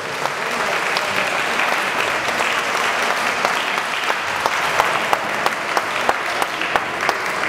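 Audience applause for dance couples at a senior ballroom dance competition in Gliwice, a steady crowd of clapping with a few sharper individual claps standing out, continuing throughout.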